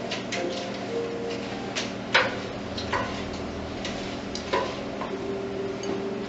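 A spoon stirs butter pecan ice cream mixture in a bowl, giving light irregular clinks and taps against the side over a steady low hum.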